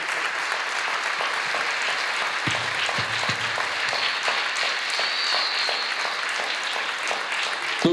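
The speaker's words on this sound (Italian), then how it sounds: "Tutti per te questi applausi, Francesco." Sustained audience applause at a live book event, dense even clapping filling the room for the whole stretch, loud and steady with no voices over it.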